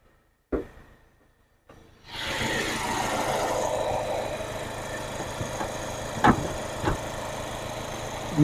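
A 2020 Kia Seltos HTE diesel engine starts up after a couple of clicks and settles into a steady idle, a close, even clatter-rich drone with a few small knocks and no talk.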